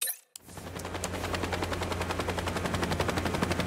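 Rapid automatic gunfire in a video game about stealing luxury supercars, a steady rattling burst that starts after a brief silence and keeps going loud and even to the end, with no talking.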